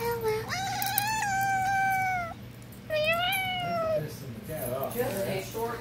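A cat gives two long, drawn-out meows close to the microphone, each rising and then falling, followed by softer short mewing sounds over faint room noise.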